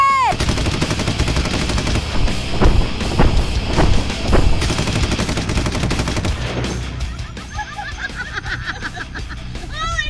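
Guns fire at a tank ranch in the Texas Hill Country, with dense bursts of loud, close rapid gunfire through the first half, then a sparser stretch of shots and rumbling echoes.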